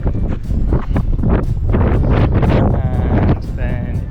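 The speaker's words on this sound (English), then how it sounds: "It's very windy." Strong wind on an island buffets the microphone, a loud continuous rumbling roar that lasts the whole time.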